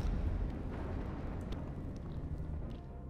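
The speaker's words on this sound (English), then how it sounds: "Let's keep a close eye on the explosions." Ship explosions in the space game EVE Online during a crowded battle: a dense, continuous low rumble with scattered crackles, steady and moderately loud throughout, no voices.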